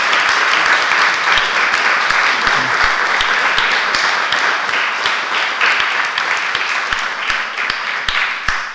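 An audience applauds steadily throughout, a dense wash of many hands clapping with no pauses.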